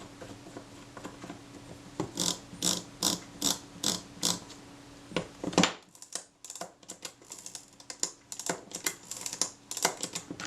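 On a partly dismantled Retina IIa camera, the film advance and frame counter are worked by hand. They give a run of quick, close mechanical clicks and ratcheting ticks in irregular bursts over faint background noise.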